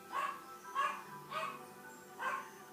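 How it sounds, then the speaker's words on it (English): A female pet dog barks four times in an evenly spaced series, each bark short and faint as if heard from another room, with no voices over it. "my uncle's dog just doesn't listen. She like barks at like nothing."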